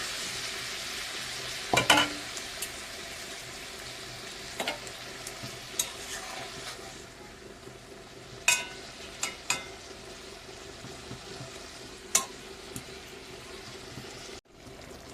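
Pointed gourd (potol) pieces simmer and fry in a bubbling curry, giving a steady low sizzle broken by occasional sharp clicks and scrapes of stirring, close and moderately quiet.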